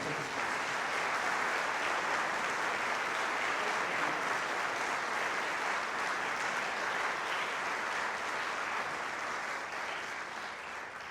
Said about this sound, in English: Would you give these ladies and gentlemen a round of applause?